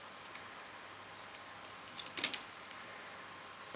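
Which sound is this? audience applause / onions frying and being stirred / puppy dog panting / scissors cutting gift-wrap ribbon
scissors cutting gift-wrap ribbon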